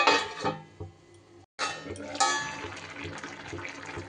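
Water being poured into a pan of vegetable curry made with Malabar spinach: a splashing pour, a brief pause, then more liquid gurgling and bubbling up close, with some clinks of cookware.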